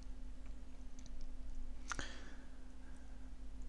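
A single computer mouse click near the two-second mark while clicking through banner-creation software, a short sharp tick over steady background hum, with no talk.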